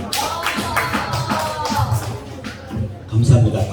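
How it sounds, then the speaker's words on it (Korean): Applause from a church congregation for a young preacher, broken claps rising to a louder burst near the end, with some voices under it. "박수 처음 받아본 것 같은데"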